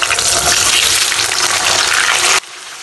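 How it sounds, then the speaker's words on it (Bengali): Potato pieces fry loudly in oil with sugar caramel, cinnamon, cardamom and shahi cumin for kacchi biryani. A dense, constant sizzle runs close and unbroken before it cuts off sharply near the end. "এই যে আলুটা ভেজে আলাদা করে নিতেছি"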